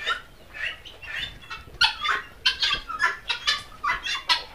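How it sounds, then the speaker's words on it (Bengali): Chickens on a poultry farm clucking loudly and close by, with repeated irregular bursts of clucks and cackles that overlap throughout. "এই যে মুরগি"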